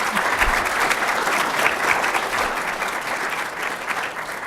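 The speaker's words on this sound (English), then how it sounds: "please give a round of applause to your J1 team" An indoor audience gives a round of applause at a civilian all-call meeting, dense clapping from many hands that stays loud and even for several seconds before starting to thin toward the end.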